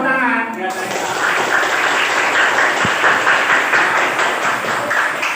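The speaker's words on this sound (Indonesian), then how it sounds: "tepuk tangan." Classroom of children clapping hands together during a teaching simulation, a continuous busy patter following a brief adult voice at the start.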